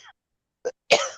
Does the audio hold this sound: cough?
yes